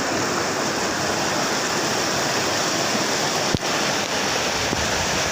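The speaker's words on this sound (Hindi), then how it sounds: "ये साइड ले संगवारी हो पानी का बहाव इतना तेज है, आप मन बैकग्राउंड में सुनाते हो आप मन ला" The Jamri stream near Dongargarh, Chhattisgarh rushes past fast and loud, a constant close roar of churning water with a single sharp knock partway through.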